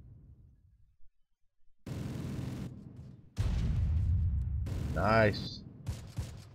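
Bursts of small-arms gunfire from a squad in the Close Combat World War II strategy game, La Fiere Causeway battle, come in loud clustered volleys with gaps between, while someone briefly speaks over them.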